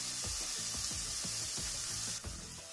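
Onion browning in a frying pan for lasagna bolognese, a steady loud sizzle with a regular rhythm of stirring scrapes beneath it, close and continuous.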